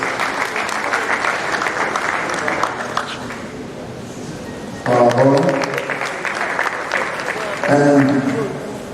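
Sustained audience applause at a memorial lecture fills the whole stretch, thinning briefly midway before swelling again, with cheers and talk rising over the clapping in bursts.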